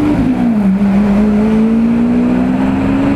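A Lamborghini sports car engine hums steadily up close on a London road, its pitch dipping slightly and then slowly rising, loud and continuous with no talking.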